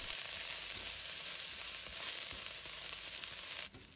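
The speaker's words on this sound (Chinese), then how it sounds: "油热以后，把葱姜放入锅中" Scallion and ginger stir-fry in hot cooking oil in a wok, making a continuous soft sizzle that stops abruptly near the end.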